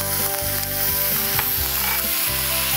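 Rohu fish fries in a pan with a ginger-onion paste, a loud continuous sizzle and crackle with repeated stirring scrapes and gentle knocks throughout.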